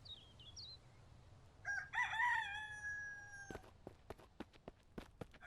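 A rooster in the survival video game Mist Survival crows once in a clear, drawn-out call, followed by a string of sharp footsteps or taps over faint ambient background hiss.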